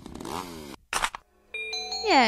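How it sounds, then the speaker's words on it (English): Chainsaw in the video game Mad Father, a rising motor whine that cuts out and then restarts in bursts alongside chiming game tones. "Chainsaw is coming out."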